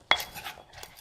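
Papaya salad seasoning being mixed with a spoon: a sharp metallic clink of the spoon against a bowl, followed by softer scraping and stirring sounds, close and brief.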